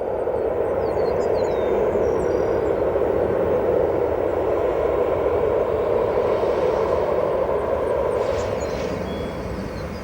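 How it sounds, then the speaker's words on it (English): An American Airlines Boeing 737 arriving from Dallas Fort Worth rolls off runway 28 center at O'Hare, a steady broad jet engine roar at moderate distance that fades slightly toward the end. "That is American Airlines flight 2895, the Boeing 737, arriving in from Dallas Fort Worth International Airport"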